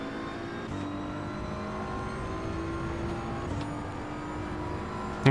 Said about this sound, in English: This BMW sounds like ACC's BMW.